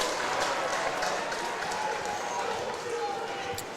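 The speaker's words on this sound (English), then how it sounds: "the Sebast crowd becoming increasingly vocal, Jackson." A crowd at an Australian football match between Sebastopol and Ballarat roars steadily from a distance, a broad continuous wash of cheering and noise over the ground.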